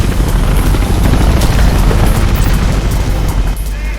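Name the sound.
police helicopter in the video game Mirror's Edge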